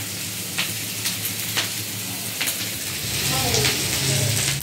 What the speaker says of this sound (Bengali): আর আমি এখানে ভেজিটেবলসগুলো আপাতত ফ্রাই করে নিচ্ছি